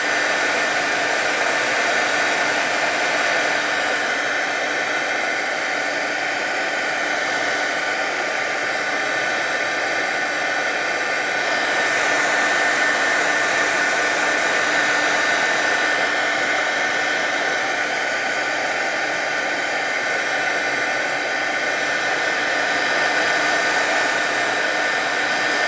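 A hair dryer runs steadily and close for the whole stretch, drying watercolor paper in a painting demonstration; a constant loud whooshing blow with slight swells as it is moved around, no talk.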